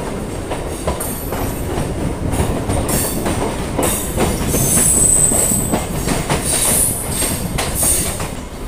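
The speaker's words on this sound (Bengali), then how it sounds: "ট্রেন এই মুহূর্তে রানীগঞ্জ স্টেশন থেকে ছেড়ে বেরিয়ে যাচ্ছে।" A passenger train, the 03517 Barddhaman–Asansol MEMU, pulls out of Raniganj station: a steady, close, loud rumble of wheels on rails with bursts of high wheel squeal and hissing, and no voices.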